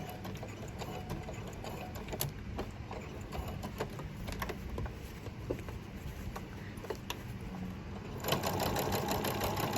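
A sewing machine back-stitches a fabric face mask, a continuous fast mechanical whirr with light needle ticks, fairly quiet and steady, swelling slightly louder near the end with no voices.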